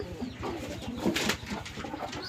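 Giribaj and Shirazi pigeons coo softly in a loft, low throaty rolling calls repeating close by against a quiet background.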